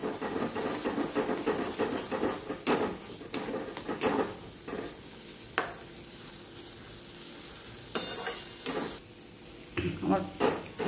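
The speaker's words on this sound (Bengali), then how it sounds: "মটরশুটির পেস্টটা ভালো করে ভেজে নেব।" Green pea paste frying in a kadai, a steady sizzle broken by scraping stirring strokes and a few sharper clatters of the spatula against the pan, close and fairly loud, with no talking.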